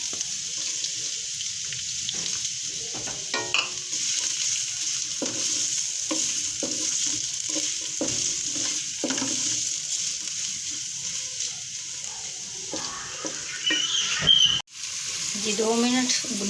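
Onions fry in a little oil for a chicken vegetable samosa filling, a continuous sizzling hiss broken by repeated stirring scrapes and clatters, with brief talk near the end.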